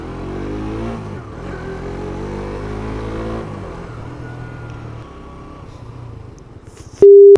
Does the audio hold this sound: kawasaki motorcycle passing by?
yes